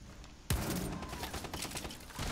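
Gunfire crackles in a Rainbow Six Siege team deathmatch on the Consulate map. A sudden loud burst of rapid shots continues as a dense, sustained volley for about two seconds.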